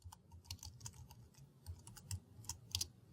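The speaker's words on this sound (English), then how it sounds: "simply type in some text as you normally would" Close, quiet keystrokes on a computer keyboard as text is typed into a text editor, an irregular patter of crisp clicks with brief gaps and no talking.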